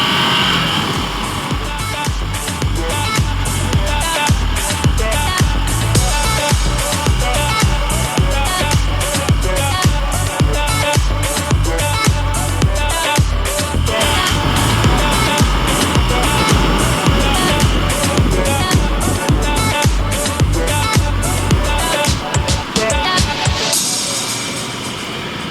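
A 2019 Ducati Desert Sled Scrambler motorcycle engine runs steadily while riding, a loud, continuous rumble with wind noise that holds for most of the ride and drops away near the end.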